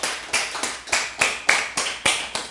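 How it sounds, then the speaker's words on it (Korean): Congregation clapping during a Korean church Sunday service: evenly spaced, sharp unison claps, close and fairly loud, in a steady rhythm with no voices. "우리 하나님께 영광의 박수 올려드립니다"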